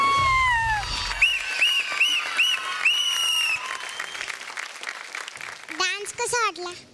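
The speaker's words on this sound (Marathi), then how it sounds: "ये ये ये ये ये जोरदार टाळ्या." Loud audience applause for a children's dance performance on a Marathi TV dance show, bursts of clapping with excited talk and whooping voices layered on top, then tapering into quieter chatter.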